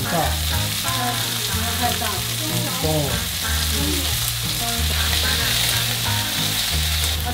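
Shrimp heads fry in oil in a pan with a loud, continuous sizzle and some stirring, while music plays underneath and a voice briefly speaks.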